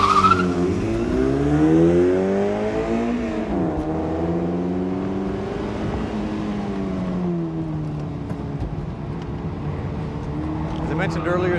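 A stock-engine Mazda NC roadster laps a tight kart track, its engine note swelling and dipping through short bursts of acceleration and braking, with possible tire noise and a voice talking over it.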